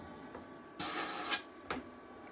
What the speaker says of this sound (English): get in the airbrush